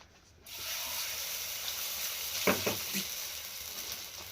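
Holige flatbread frying in oil produces a faint, steady sizzle that starts abruptly after a moment of quiet, with a few soft scraping knocks partway through and no voices.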